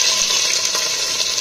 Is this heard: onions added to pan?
yes